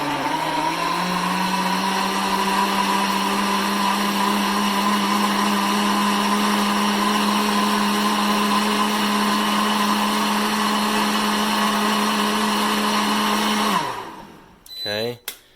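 Preethi mixer grinder, black and silver, running on its clean setting: a loud, steady high-pitched motor whine that holds for about fourteen seconds, then cuts off abruptly, followed by a couple of faint clunks.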